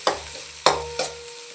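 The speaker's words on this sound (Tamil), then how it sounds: "கடுகு பொரிஞ்ச உடனே பெரிய வெங்காயத்தை போடலாம். வெங்காயம் நல்லா வதங்கணும்." Sliced onions hit hot oil with popped mustard seeds and are stirred, giving three sharp scraping clatters over a steady, gentle sizzle, close and without speech.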